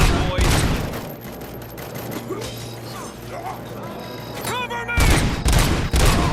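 Automatic gunfire from the video game Robocop: Rogue City rattles in dense bursts with booming impacts under shouted voices, swelling louder near the end.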